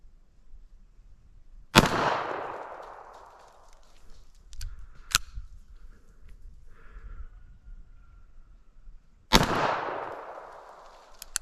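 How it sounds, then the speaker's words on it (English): Pistol fired with a red dot sight at a 25-yard target outdoors: two loud sharp shots several seconds apart, each with a ringing decay, plus a fainter click between them. "Now we're going to take a couple shots at that A zone that I drew on that target."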